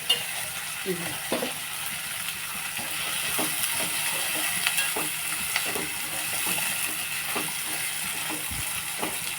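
Steady, bright sizzling of spices frying in hot oil, with occasional light clinks and stirring scrapes, close and continuous with no talking.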